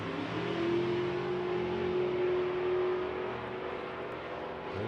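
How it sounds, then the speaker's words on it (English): A pair of Super Gas drag race cars launch off a green light at a European drag racing finals, heard as a loud broad engine roar with a sustained whining tone that builds and then holds. "The last pair in Super Gas. Green light drag race."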